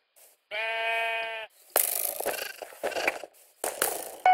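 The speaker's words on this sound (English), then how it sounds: "Let's grab the first sheep!" A video game sheep gives one loud, clear bleat lasting about a second, followed by bursts of cartoonish game sound effects.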